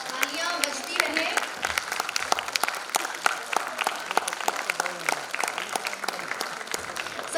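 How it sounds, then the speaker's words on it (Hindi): An audience at a homoeopathy conference applauds steadily, a sustained wash of many hands clapping at moderate distance, with a voice speaking over the clapping near the start. "तालियां बजती रहे"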